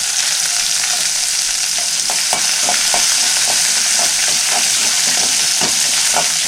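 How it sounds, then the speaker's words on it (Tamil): Green chilies fry in hot oil in a pan, giving a steady, loud sizzle with scattered spoon taps and stirring clicks on top, close to the pan with no voices. "இப்போ பச்சை மிளகா போடுறோம்"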